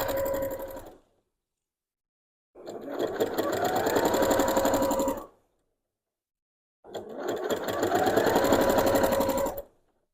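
Home sewing machine with a walking foot stitching straight quilting lines, three sustained whirring runs of a few seconds each separated by silent pauses, close and even in speed.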